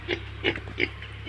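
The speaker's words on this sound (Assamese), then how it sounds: "এটা আছে গাহৰি" Pig on a village farm grunting in a steady series of short, close oinks, about four or five low snorts in quick succession over a faint background hum.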